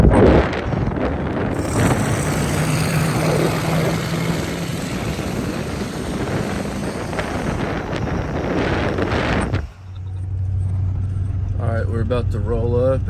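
A Crown Vic hammering down the road at speed, a steady loud rush of wind and road roar with engine drone close to the microphone, briefly dipping before the roar resumes.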